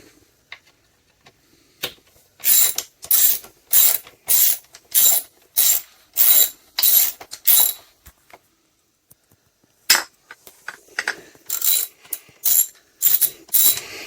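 A hand tool ratchets while screws are undone on Honda Goldwing heel-and-toe footplates: close, crisp clicking bursts in a regular rhythm, a pause, then a second run of quicker clicks, with no talking.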